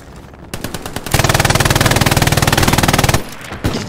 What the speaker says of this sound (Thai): ยิงไม่โดนเลยกระจายโคตรเยอะ